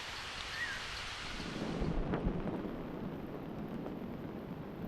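Steady rain falling outdoors in rural Thailand, a dense even hiss throughout, fairly loud, with no talk.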